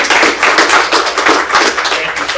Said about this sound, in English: how about a round of applause for Lauren?